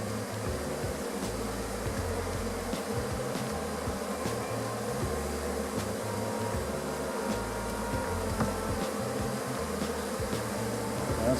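Honeybees from an orphaned hive buzzing thickly around the opened box, a continuous dense hum with individual bees droning close by, no talk.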